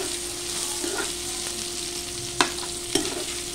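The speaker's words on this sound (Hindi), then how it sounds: "और पहले आलू हमने इसमें डाले हैं, आलू को भी थोड़ा भून लेते हैं।" Potatoes fry in a pan for a sago fasting breakfast, with a steady, close sizzle and a couple of sharper stirring clicks near the end.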